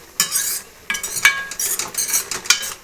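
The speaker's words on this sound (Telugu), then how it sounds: "పాలు వేసుకొని బాగా వేయించుకోవాలి." Bottle gourd halwa with milk stirred and fried in a pan, a spoon scraping and clinking in quick irregular strokes over a faint sizzle, close and without talk.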